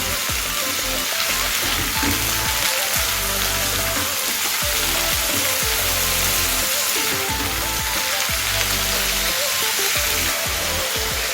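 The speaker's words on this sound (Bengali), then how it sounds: "সামান্য কিছু সময় নিয়ে আগে চিচিঙ্গাটাকে একটু ভাজা করে নেব" Ridge gourd (chichinga) pieces fry in hot oil with no salt yet added, giving a loud, steady, dense sizzle and crackle that runs unbroken throughout, with occasional stirring scrapes.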